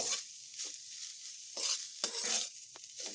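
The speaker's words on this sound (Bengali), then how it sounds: "এবার আমি এগুলোকে একটু বেশ ভালোভাবে ভেজে নেব" Banana stem pieces frying in a pan, a soft continuous sizzle broken by repeated scraping bursts as the pieces are stirred, close and fairly quiet, with no talking.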